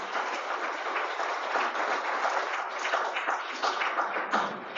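An audience applauds at an evening event on America's Chinatowns, a dense, steady patter of many hands clapping that fills the room without pause.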